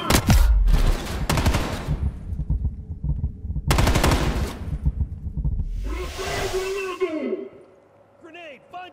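Rapid machine-gun fire and single gunshots from the video game Call of Duty: Black Ops Cold War crack out in loud close bursts, followed by a whooshing hiss as the firing dies away, with a voice talking faintly alongside.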